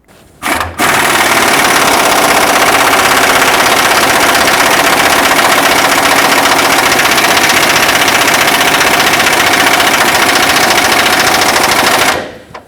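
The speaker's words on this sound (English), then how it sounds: "So what I will do is just tighten it up really tight with my air impact." Air impact wrench tightening a track bar ball joint bolt on a 2011-2016 Ford F-350 truck, a loud continuous rapid hammering rattle lasting about eleven seconds, starting and stopping abruptly, with no talk.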